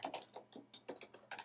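Quiet, rapid clicking of keys on a computer keyboard as text is typed, with about a dozen light taps in an uneven rhythm and no voices.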